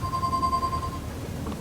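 A phone in the Leisure Suit Larry: Wet Dreams Dry Twice video game gives a short, faint electronic ring tone over a low background hum.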